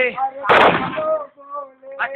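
A single loud firecracker burst cracks out in the middle of chanting, sung voices, which carry on before and after it.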